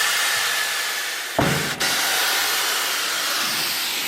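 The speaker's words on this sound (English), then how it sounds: "Using the tire machine, we obviously need to just watch where the sensor is." A tire changing machine breaks down the bead of a flat tire: a loud, steady pneumatic hiss runs throughout, broken by one sharp burst partway through.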